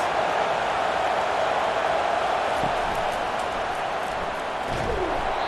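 Stadium crowd noise in the football video game EA Sports College Football 25 during an Oregon versus Alabama matchup, a dense, steady roar that holds at a constant loud level throughout, with faint thuds beneath.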